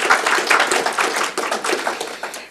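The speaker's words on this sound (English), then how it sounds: "Can we give a quick round of applause for TOA, who provided all of the lunch and food today?" A short burst of applause from an audience at a wellness gathering, steady dense clapping of many hands at moderate loudness, fading slightly toward the end.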